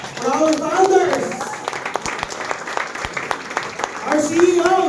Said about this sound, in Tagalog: Let's not stop clapping until they are on front.